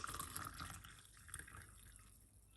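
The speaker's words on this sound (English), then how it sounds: "Pour it out into a glass like this." A clove drink pouring into a glass: faint liquid trickling and dripping, quiet and close, fading over a couple of seconds with no talk.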